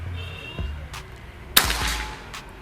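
A Predator Escobar PCP air rifle fires a single sharp, loud crack near the middle of a shooting accuracy test, with a short tail after it and a couple of fainter knocks around it.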